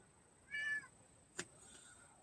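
A house cat lets out one short, clear meow up close in a quiet indoor room, followed by a brief sharp click.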